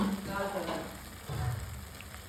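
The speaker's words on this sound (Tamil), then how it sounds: "அரைச்சி வச்ச விழுதை ஊற்றி தாளித்த உடனே" A ground paste for South Indian mor kuzhambu hits the hot tempering with a loud, close, broad sizzle that stays steady and then swells again briefly.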